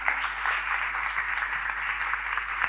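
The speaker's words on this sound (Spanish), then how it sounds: "Un aplauso para él." Audience applause fills an auditorium at a TecweekED 2025 education talk in Buenos Aires, a steady, moderately distant wash of clapping that holds evenly throughout with no voices.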